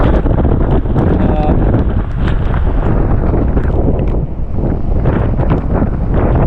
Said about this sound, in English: Definitely kind of windy out here